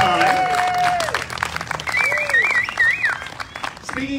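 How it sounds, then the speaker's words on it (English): An outdoor seaside concert crowd in Wildwood, New Jersey claps for a community band. The applause is steady and sustained, with whistles and cheering calls riding over it. "give them a round of applause for playing so well with such a short amount of time"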